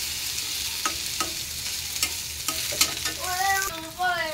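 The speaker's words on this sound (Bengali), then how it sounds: "এই যে ডিম ভাজি হয়েছে" Frying in a pan near where an egg was fried and chillies are now being fried, a constant loud hiss of hot oil with intermittent scraping stirs and short crackles, close up and without speech.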